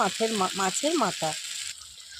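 A pre-fried fish head goes into a pan of sizzling spices, oil and softened tomato for a pumpkin dish, a bright steady hiss under a person talking, then continuing alone.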